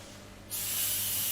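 A spray gun abruptly starts and hisses steadily as enamel is sprayed onto a copper bowl, a close, loud, continuous spray with no talking.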